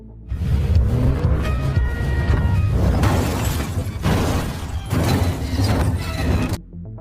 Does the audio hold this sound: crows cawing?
no